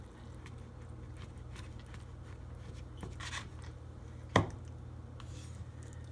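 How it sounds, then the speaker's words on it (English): In a quiet home kitchen, a knife cuts a piece of food in half with a single soft, crisp cut against a low steady room hum. The sound is brief and close, with no talking. "This is pretty even, but I'll just cut it in half."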